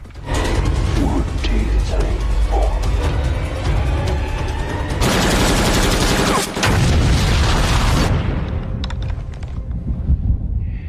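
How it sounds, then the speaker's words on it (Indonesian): Loud, sustained rumbling blasts and crackling debris from a landmine explosion on a snowy hill in a war film roar through the scene, with a heavy burst in the middle before the noise thins out. "tewas terkena ledakan ranjau"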